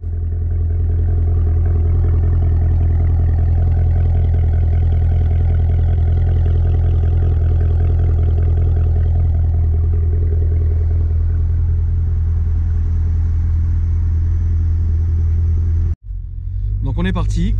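An Equus Throwback car engine rumbles low and steady from close by for a long stretch as it drives off, then cuts sharply to a quieter, thinner sound near the end.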